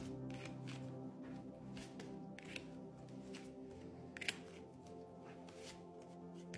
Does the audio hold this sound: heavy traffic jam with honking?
no